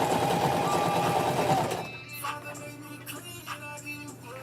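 A sewing machine runs fast and loud as it stitches a girls' skirt, then stops after about two seconds, leaving faint clicks and handling noises nearby.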